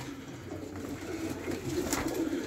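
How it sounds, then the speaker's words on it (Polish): Soft, low cooing of Budapest pigeons repeats over a steady murmur of birds nearby, with a faint higher chirp partway through. "Zobaczcie, to są gołębie jaśniaki, budapeściaki."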